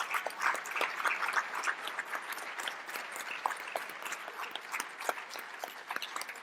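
Audience applause at a community celebration honoring fifteen years in the community, dense steady clapping throughout at moderate level, with no talk over it.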